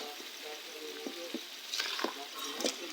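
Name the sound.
spices being sautéed and stirred in a pan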